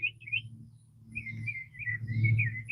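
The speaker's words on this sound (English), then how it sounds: "Listen at them birds, y'all." Small birds chirp and twitter in quick bursts, fairly close and clear, in a flower garden over a quiet background with a faint low rumble.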